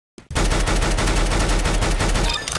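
Rapid automatic gunfire from a rifle spray in Counter-Strike, a loud continuous burst of evenly spaced shots lasting over two seconds with no talk over it.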